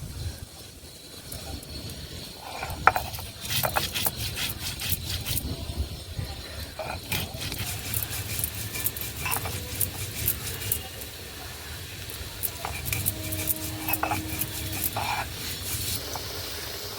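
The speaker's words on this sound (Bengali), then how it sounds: "গোটা ধনে জিরে গোলমরিচ একসঙ্গে বেটে নেব।" Whole coriander, cumin and black pepper are ground together by hand in a village kitchen, giving a steady scraping, grating rhythm with repeated gritty strokes throughout, close and moderately loud.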